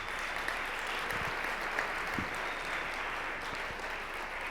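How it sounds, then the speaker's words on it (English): An audience at an evening keynote event applauds steadily for a few seconds, a dense wash of clapping from a crowd heard from within the room. "Let's give them a round of applause."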